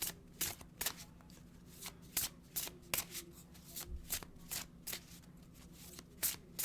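Oracle cards being shuffled by hand, a steady run of crisp riffling flicks close to the mic over a faint low hum, with no talking.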